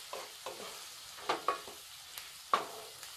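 Tomato and onion sautéing in a pan with coriander powder, a soft low sizzle punctuated by a few sharp spoon scrapes and taps against the pan, quiet and close with no talking.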